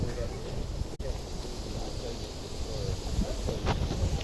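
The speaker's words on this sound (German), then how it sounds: "Der Wind ist laut." Wind buffets a microphone outdoors as a steady low rumble that fills the whole stretch, with a short dropout early on and a faint voice underneath.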